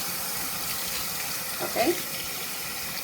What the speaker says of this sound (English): we're gonna drain that water and we're gonna rinse them